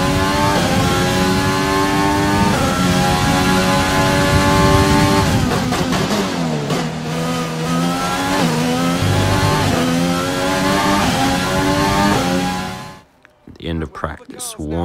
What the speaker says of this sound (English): I don't feel like recording my voice, so here is the Renault engine.